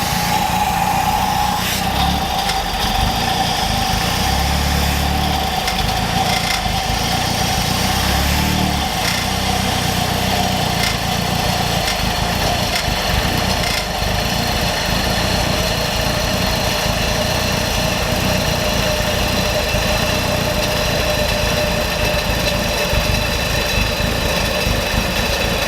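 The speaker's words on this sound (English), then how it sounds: "so it's definitely sputtering in and out, but that's fine" A Mazdaspeed3 engine idles steadily and close by, its tone wavering and sputtering unevenly as Seafoam engine cleaner is fed into the intake.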